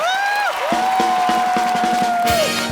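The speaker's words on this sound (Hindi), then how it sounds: "एक बार जोरदार तालियां ग्रेट ग्रैंड मस्ती की पूरी स्टार कास्ट और डायरेक्टर साहब मिस्टर इंद्र कुमार जी के लिए।" Studio audience at The Kapil Sharma Show cheering and clapping for a film's star cast and director, with loud whoops and a sustained yell riding over rapid clapping, close and energetic throughout.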